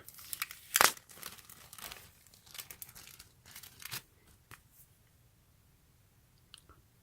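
Tape and plastic packaging pulled off an Adidas Originals long-sleeve shirt during unboxing, close crinkling and tearing with a sharp rip near the start, then fading rustles and faint handling noises, no talking.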